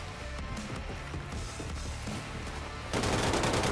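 Weapon in the video game Wolfenstein 2: The New Colossus firing in rapid, dense bursts under game effects, turning louder and harsher toward the end, with no talk.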